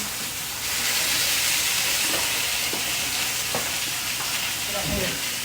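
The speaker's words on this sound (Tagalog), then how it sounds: "habang niluluto ko yung chicken" Chicken fries in a pan with a loud, steady sizzle and hiss, broken by a few brief stirring clatters and scrapes near the end.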